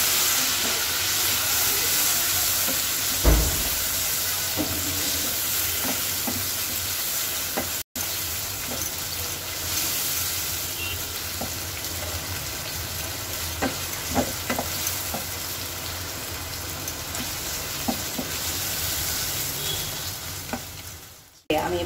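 Marinated chicken sizzling and frying steadily in a pan for about twenty seconds, with occasional scrapes and clinks of stirring standing out above a constant loud hiss, and no voices.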